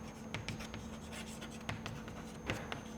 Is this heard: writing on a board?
yes